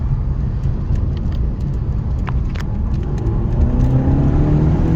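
A 2018 Honda Civic Si with a 1.5L turbo engine and new fuel injectors drives along, its steady engine drone and road noise rising slightly as it accelerates, loud and close from inside the car.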